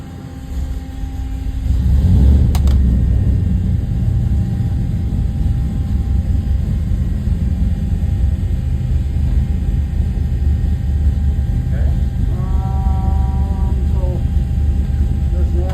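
A 534ci big block Chevy engine roars on a dyno, loud and steady after a quick rise, with a low, continuous rumble throughout and people talking over it.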